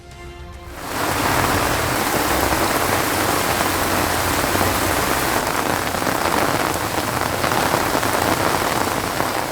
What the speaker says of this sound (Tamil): கடலூர் மாவட்டத்தின் பல்வேறு பகுதிகளிலும் கனமழை.